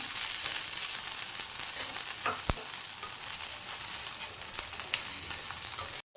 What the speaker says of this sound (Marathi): थोडंसं तूप सोडून घेऊया बाजूने याला